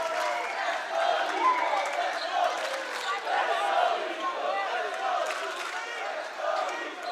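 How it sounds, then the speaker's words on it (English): Home crowd of Layton Christian Academy faithful chanting and cheering at a high school boys basketball game against Timpview, a dense, sustained roar of voices filling the gym with rhythmic swells. "that got the LCA faithful on their stands and chanting, cheering here for the first time tonight"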